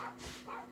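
Dogs barking outside a house, a couple of short yips heard faint and distant over quiet room tone.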